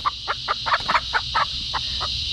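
Chickens cluck in a quick series of short, close calls over a steady high-pitched background hum.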